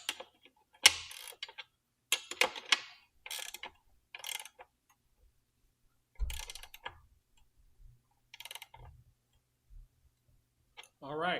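Ratcheting clicks come from tightening the axle nut on a Rattan LF 750 PRO e-bike motor hub, sharp bursts of clicking in short separated runs with quiet gaps between them.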